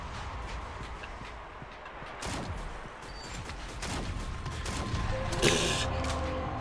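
Rapid gunfire bursts crack out in Shadowgun Legends multiplayer combat, several sharp loud shots clustered toward the end over a busy game-sound backdrop.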